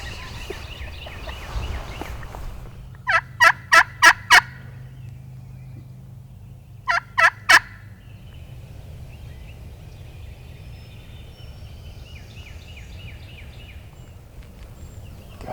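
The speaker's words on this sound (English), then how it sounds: "we got turkeys pitching across the river to us right down here off Sam's gun." Wild turkeys gobble from across a river on public land, two bursts of rapid rattling gobbles at moderate distance, standing out against quiet outdoor background with no talk.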